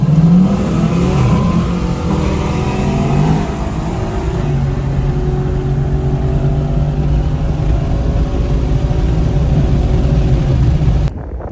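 A Pontiac G8 fitted with a 460-horsepower LT engine and an aftermarket torque converter accelerates hard. Its loud, deep engine roar climbs through the gears for about eleven seconds with no voices, then cuts off abruptly at the end.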